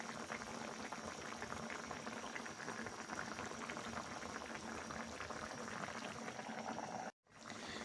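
Fish simmering with okra in a pot, a continuous close bubbling boil of liquid, steady and even until it cuts off abruptly near the end.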